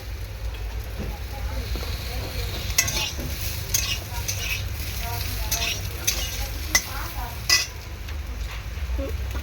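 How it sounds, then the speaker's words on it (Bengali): Potatoes sizzle steadily in oil in a pan, with occasional sharp clinks and scrapes as a utensil stirs them. The frying is close and continuous under a low background rumble. "ভালো করে ভেজে নেব"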